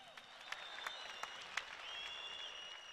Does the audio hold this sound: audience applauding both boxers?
yes